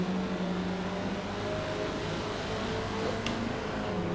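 A Hyundai Veloster Turbo engine in Forza Motorsport, racing at Laguna Seca, hums steadily and fairly loud from the hood view as the car drops into second gear, its tone holding as a continuous drone with no talk.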